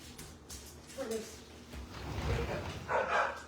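A household dog barks and whines indoors, wanting to be let out, a few yips and barks rising toward the end, mixed with a person talking nearby.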